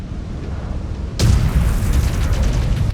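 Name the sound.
autocannon destroyed, explosion in a MechWarrior video game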